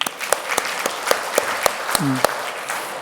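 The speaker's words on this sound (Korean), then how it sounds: "세례를 받아서 한 가족이 되었으니 박수 한번 보내겠습니다" Members of a church congregation at a Sunday service clap for an infant baptism. The claps are sparse and sharp, spaced out and fairly close, and a short voice cuts in partway through.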